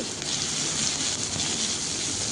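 Crushed garlic cloves and radhuni seeds hit hot oil with a bright, steady sizzling hiss, close and even throughout the brief moment with no voices.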